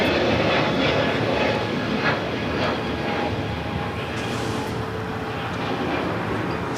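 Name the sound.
JetBlue Airbus A321neo jet at LAX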